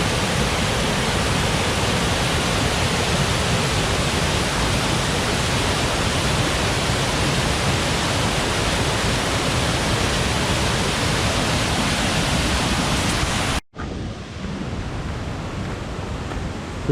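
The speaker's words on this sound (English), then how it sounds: "This is water running down the trail." Water rushes down a wet trail at Ricketts Glen's waterfalls with a loud, continuous roaring hiss. It stops abruptly for a moment, then comes back slightly quieter.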